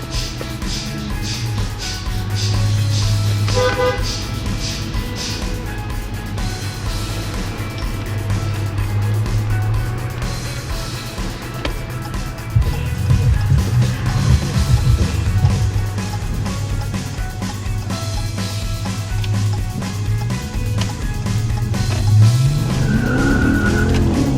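A Dodge with a 5.7 Hemi V8 and a Mopar performance exhaust drives under steady, loud engine drone, with a louder surge of revving and tire noise partway through.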